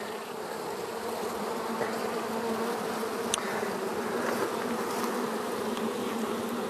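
A dense, steady buzz of many honeybees crawling and fanning on a hive frame during feeding, close and continuous with no voices.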